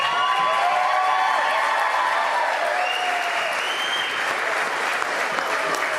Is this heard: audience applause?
yes